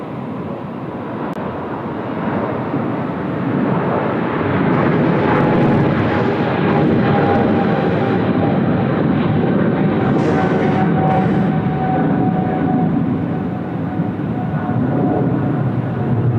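Loud, steady roar of Boeing 777 jet engines at Sydney Airport with a broad rushing whine, swelling slightly and holding strong throughout, no voices.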